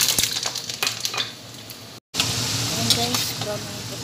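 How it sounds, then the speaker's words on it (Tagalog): Potatoes fry in a pan with a strong, steady sizzle, broken by stirring scrapes and a brief cut, then rising into louder, bright crackling close by. "Prito muna natin."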